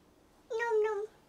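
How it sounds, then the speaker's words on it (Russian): A single short cat meow, clear and fairly close in a quiet indoor room, lasting about half a second with a brief second rise near its end. "Мяу, киска кушает."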